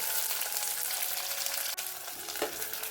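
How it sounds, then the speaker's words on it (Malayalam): Shallots and green chilies fry in a pan for a dried shark curry, giving a steady, close sizzle with a brief stirring scrape near the end. "ചെറിയ ഉള്ളി അത് ഞാനൊന്ന് രണ്ടായിട്ട് മുറിച്ചതാണ് അതുകൂടി ഇട്ട് കൊടുക്കാം പച്ചമുളക് അതുകൂടി ചേർക്കാം"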